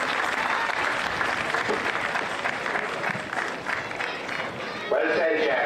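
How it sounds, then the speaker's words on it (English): A crowd at a Gaelic football final applauds steadily, the clapping sustained and fairly close, with a voice speaking over it toward the end. "So I wanted to give him a big round of applause"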